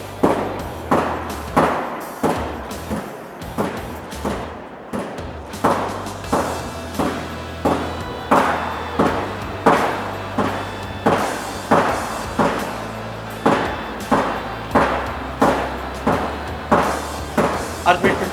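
Heavy hammer blows strike a security door during an STS2020 BR2 live attack test at a trade show, landing as a long steady series of loud, evenly spaced thuds with hall noise beneath.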